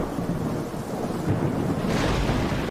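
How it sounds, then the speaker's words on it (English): Thunderstorm with steady heavy rain on Camino in Star Wars: The Bad Batch, a continuous loud wash of rainfall with rolling thunder swelling partway through, with no talk. "Just the constant storms and rain would be perfect for me."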